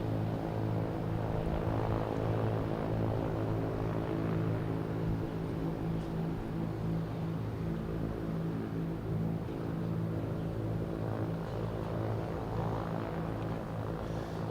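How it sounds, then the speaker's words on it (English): An American Airlines Airbus A319 jet lands at Boston Logan Airport, its steady engine roar heard from outside at moderate distance for the whole stretch, with no talk over it. "here's American Airlines at A319 coming in from"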